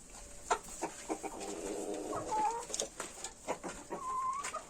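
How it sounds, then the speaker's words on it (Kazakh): Adler hens, about ten with one rooster, clucking in a yard: irregular close clucks and short calls scattered over a quiet background. "енді бұл жерде қазір 10 тауық бар. Бір әтеш 10 тауық."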